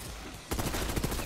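Rapid SMG gunfire in the Black Ops 6 video game, a dense burst of shots that starts abruptly partway in and continues steadily and loudly to the end.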